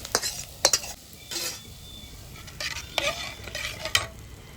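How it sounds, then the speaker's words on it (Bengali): Hot fried onions hiss and sizzle as they're poured into a pot, with a few sharp scraping clinks of a utensil against metal. "পেঁয়াজ ভাজা হয়ে গেছে এবার আমি ঢেলে দিচ্ছি খিচুড়ির উপরে"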